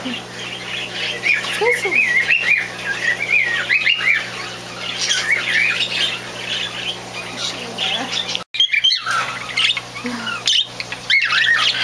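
A pet budgie in a pet store squawks and chirps almost continuously at close range, with bright repeated calls through most of the stretch and a brief pause near the end, while people talk nearby.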